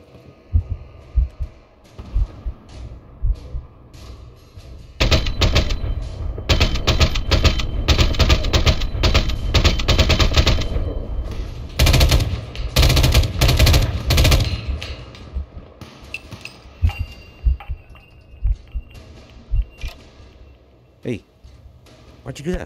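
Rapid bursts of weapon fire in the VR game Fallout 4 with a graphics overhaul mod, loud and sustained for several seconds, then giving way to scattered single shots and a low hum.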